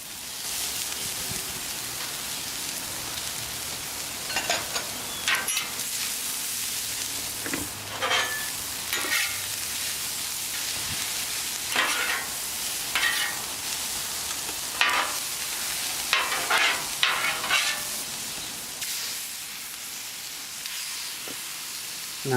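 Onions and carrots fry in oil on a teppanyaki griddle with a steady sizzling hiss, broken by repeated scraping and stirring strokes of a spatula against the hot metal.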